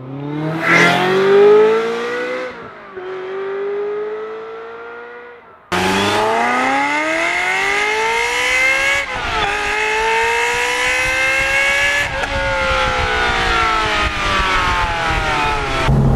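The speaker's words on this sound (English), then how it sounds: "what's so lovely about driving this car is it's V8, but it's naturally aspirated. It's so crisp." A Ferrari 355 Berlinetta's naturally aspirated V8 revs hard on the move, its crisp rising engine note climbing through gears with brief drops at each shift, loud and close throughout.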